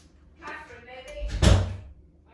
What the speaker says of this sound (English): She shut the door